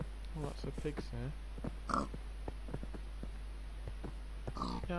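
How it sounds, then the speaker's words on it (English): Pigs in the video game Minecraft grunt and oink in quick, repeated short snorts, several animals close by, under a steady low hum. "Oh, lots of pigs here."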